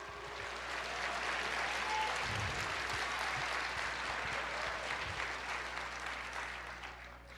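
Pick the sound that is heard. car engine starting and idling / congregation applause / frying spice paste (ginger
congregation applause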